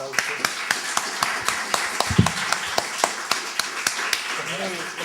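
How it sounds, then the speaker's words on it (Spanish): Sparse individual claps ring out at an audience gathering, sharp separate hits in a loose, uneven rhythm, with voices talking over them. "un aplauso"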